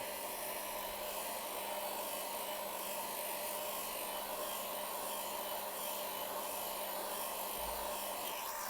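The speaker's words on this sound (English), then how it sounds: "take the heat gun and pass it again" A heat gun blows steadily close by as it passes over yellow vinyl on a Ducati Monster dashboard, a constant airy roar with no breaks and no voices.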